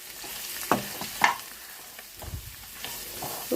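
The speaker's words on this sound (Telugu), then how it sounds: "వేపేసుకుందామండి." Boiled bitter gourd frying with chili powder in a pan, with a soft background sizzle broken by a few sharp stirring scrapes and clacks, close by and with no talking.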